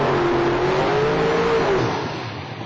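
An 02 Trans Am drag car with a 598-cubic-inch big block revs loudly at an outlaw street car race, a harsh sustained engine roar that wavers in pitch, then eases and fades near the end.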